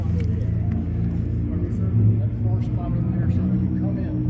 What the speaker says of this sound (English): they're lining up the cars